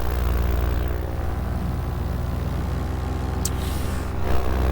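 Steady drone of an aircraft engine running at quarter throttle, loud and constant with a low rumbling hum, with no voices.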